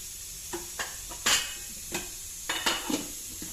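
Fenugreek seeds fry in hot oil in a pan for an onion chutney, a soft steady sizzle and hiss with a few light scrapes and taps of a spoon stirring, close and quiet.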